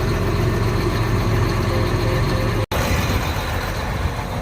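A farm tractor engine runs at a steady idle before its auger is unfolded, a continuous close low rumble with a brief cut partway through.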